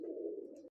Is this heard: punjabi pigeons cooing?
yes